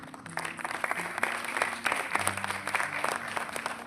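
An audience at a marketing business meeting claps in a loose, uneven burst, with a background hum and low tones running beneath the individual claps.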